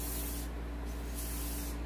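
Silicone oil sprayed from an aerosol can onto a Glock airsoft slide, a steady close hiss in a few continuous bursts with brief gaps, over a low hum.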